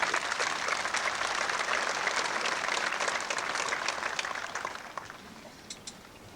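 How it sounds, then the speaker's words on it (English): Applause from a commencement audience at Southeastern Oklahoma State University's 1999 spring ceremony, a full steady round of clapping that fades out to a few last scattered claps. "Let's acknowledge Blue Key and Cardinal Key at this time with a round of applause."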